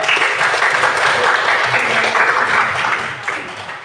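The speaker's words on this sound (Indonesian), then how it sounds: "kita beri tepuk tangan untuk kelompok 2." A classroom of students claps for a group that has just presented, a steady, close round of applause that tapers slightly toward the end.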